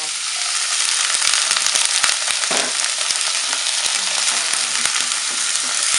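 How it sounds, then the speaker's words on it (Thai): A pork and sweet pepper stir-fry with garlic and black pepper sizzling loudly and steadily in a pan as a splash of plain water is added, bringing a brief hiss and bubbling over the constant frying crackle. "จากนั้นเราก็จะเติมน้ำเติมนิดหน่อยนะคะ เป็นน้ำเปล่า"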